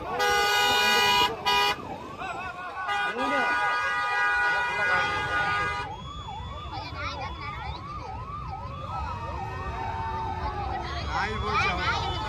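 A loud ambulance siren wails up and down, shifting into a rapid yelping pattern, with horn toots and crowd noise around it in a traffic jam.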